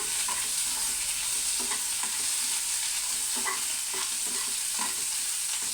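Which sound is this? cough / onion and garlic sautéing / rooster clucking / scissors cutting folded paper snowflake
onion and garlic sautéing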